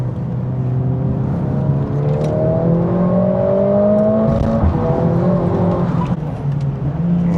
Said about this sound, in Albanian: Edhe zhurma për makinë 4 pistonçe.